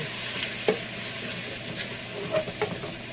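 Chapsuy is stirred in a pan: a soft, continuous sizzle with a few sharp scraping clinks of the utensil scattered throughout, quiet and close.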